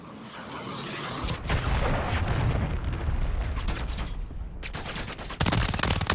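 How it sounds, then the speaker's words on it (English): A cruise missile strike in a shooter game erupts in a sustained heavy rumble laced with crackling bursts, followed by a sharp second impact near the end, loud and close. "Friendly cruise missile deployed."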